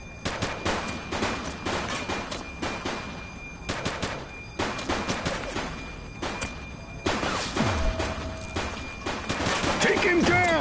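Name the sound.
gunfire in the video game The Precinct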